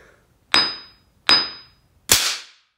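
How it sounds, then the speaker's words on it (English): Three sharp hammer strikes land on concentrated explosive oil in an impact test, each a loud crack with a quick decaying ring, spaced under a second apart; the last hit sounds brighter and more explosive. "let's try an impact test on the concentrated oil"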